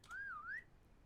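A single clear whistle inside the video game SurrounDead, a short rising-falling-rising melodic phrase about half a second long, faint and alone over quiet background hiss.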